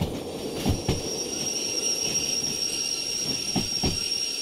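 Steam locomotive braking in the Derail Valley train simulator, a steady rumbling roll of rail cars with a constant high metallic wheel squeal and a few heavier clunks, continuous and fairly close with no talking.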